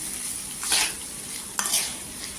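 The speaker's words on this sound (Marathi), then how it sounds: "आता छान अशी तेलावर परतून घ्यायची बटाट्याची भाजी" Potatoes sizzling in hot oil as a spatula scrapes and tosses them twice, crackling frying noise close up.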